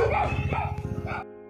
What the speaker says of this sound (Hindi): और ये डॉगीज भी भौंक रहे हैं हम पे,